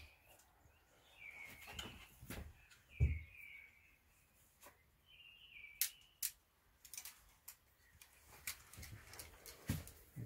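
Short, fluting mistle thrush song phrases sound faintly from a distance, interrupted by nearby clinks and knocks of cutlery.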